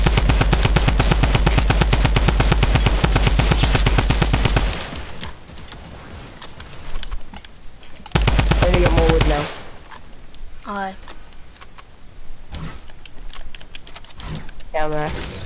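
Rapid automatic gunfire from the video game Fortnite Save the World rattles in two dense, loud sustained bursts, separated by quieter stretches of scattered game sounds, with players talking over it.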